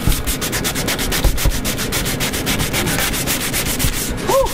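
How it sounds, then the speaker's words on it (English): Hand sanding of Bondo body filler on an S10 pickup truck, a close, loud, rapid rhythmic rasping of back-and-forth strokes continuing steadily throughout. "Sanding is hard, oh my gosh."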